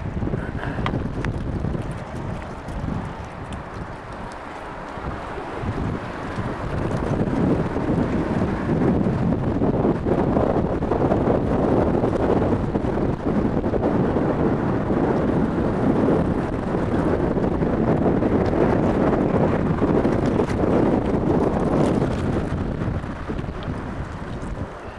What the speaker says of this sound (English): Not super windy, but you know, it's pretty windy.